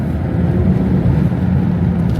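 Steady low engine drone from a 400 hp BMW 340i cruising in fourth gear at about quarter throttle on a slippery road, heard from inside the cabin, continuous with road and wind noise and no talk.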